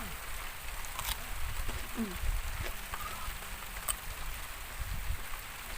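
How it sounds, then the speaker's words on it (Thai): Steady rain falls outdoors at a forest planting site, a soft continuous hiss with a few scattered sharper drips and faint low rumbles, with no talk over it. "ฝนตกจะกลับบ้านยังไงล่ะทีนี้"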